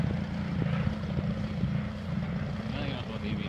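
A 100cc radio-controlled model jet flies at an RC airshow, its engine a steady, droning whine that holds constant throughout, with a commentator talking over it.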